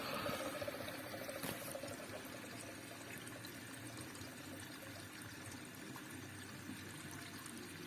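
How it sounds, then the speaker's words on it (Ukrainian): A Hansa dishwasher showing a blinking error 40 keeps drawing in water, a steady close rushing pour that runs unbroken throughout while the circulation pump stays off. "А вона далі бере воду."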